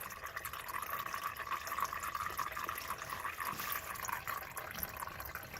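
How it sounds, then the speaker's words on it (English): Engine oil dripping from the drain of a Honda Civic into a bucket, a quick continuous trickle with small splashy drips, faint and close. "Let it drip a little bit, you know, the extra oil."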